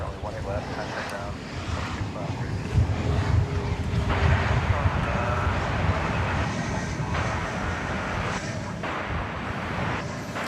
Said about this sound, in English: It's an Airbus A319, 22-year-old aircraft.